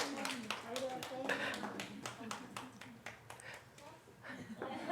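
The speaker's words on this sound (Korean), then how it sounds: "박수" A church congregation at Atlanta Dream Church claps in quick, repeated strokes while a pastor keeps talking over the clapping during a children's moment in the service.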